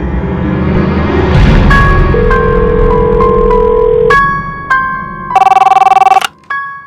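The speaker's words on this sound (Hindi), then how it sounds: "उसी वक्त मुझे उसकी फ्रेंड का फोन आया," A telephone ringtone sounds in short repeated electronic bursts near the end, set over sustained dramatic background music in a Maharashtra crime reenactment drama. No one speaks.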